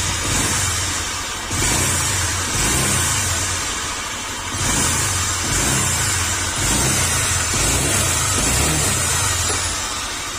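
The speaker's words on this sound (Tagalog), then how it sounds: "Parang may ginigiling na mais sa loob ng makina at na parang tunog big bike." Honda Click 125 scooter engine running with a worn crankshaft bearing, a loud continuous grinding drone that swells and eases in repeated waves as it revs, heard up close with no talk.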